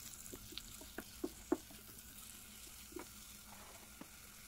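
Onions and chili peppers fry in a little oil inside a 1.5-litre electric hot pot, a faint, low sizzle broken by a few soft stirring taps.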